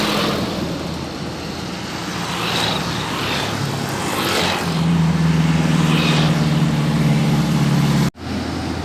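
A CRG bus on the eastern Sumatra highway at Pandau passes close by, its broad engine and tyre roar swelling to a steady low drone, with other traffic in the background and a sudden cut near the end.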